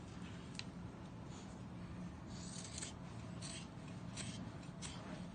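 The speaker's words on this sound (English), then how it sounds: "if you just want to take your scissors" Several quick scissor snips cutting through pillowcase fabric, faint and irregularly spaced over a steady low background hum, with no talking.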